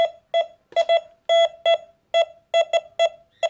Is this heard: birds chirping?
no